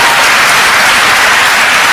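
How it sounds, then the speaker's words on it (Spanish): Steady, dense applause from a church congregation, filling the whole stretch with no voices breaking through. "Denle un aplauso al Señor Jesucristo en esa noche."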